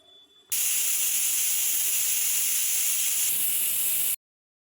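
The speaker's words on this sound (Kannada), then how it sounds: "ಕುಕ್ಕರ್ ಒಂದು ವಿಷಲ್ ಹೊಡೆದಿದ ತಕ್ಷಣ ಆಫ್ ಮಾಡ್ಕೊಂಡ್ಬಿಡ್ಬೇಕು." Steam releasing through a pressure cooker whistle while chicken chops cook, a loud, steady, piercing hiss that starts abruptly, holds for several seconds, then cuts off sharply.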